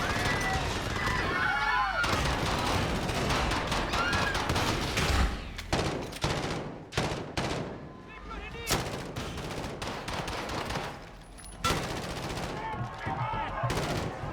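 Rapid bursts of Call of Duty gunfire crack out in clusters, with automatic volleys and single sharp shots separated by short pauses, loud and close, while a voice talks underneath.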